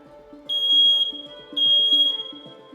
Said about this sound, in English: That is the alarm of the smoke detector whenever it detects smoke into our homes